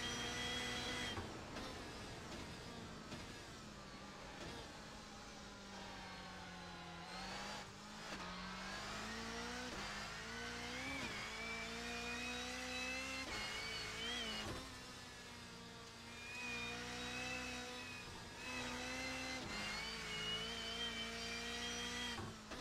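Subaru WRX rallycross car engine in the iRacing game at Sonoma Raceway, a continuous simulated engine drone rising and falling in pitch through repeated accelerations and gear changes, fairly quiet and steady with no talk.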